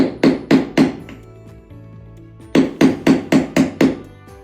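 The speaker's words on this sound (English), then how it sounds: "take a nail punch and punch it in a little deeper" Two bursts of sharp hammer blows on a nail punch setting nails, three quick strikes then a pause, then six evenly spaced metallic taps, close and loud.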